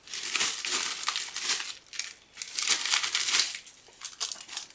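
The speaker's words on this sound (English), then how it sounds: "I'm gonna open the bag up" Plastic parts bag for a desktop computer build crinkles and crackles as it is torn open, a close, busy run of dry crumpling bursts with no talk.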